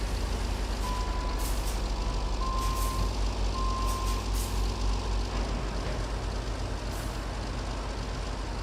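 A truck in the Roadcraft video game backs up with a steady reversing beeper, a few evenly spaced beeps over a constant low engine drone.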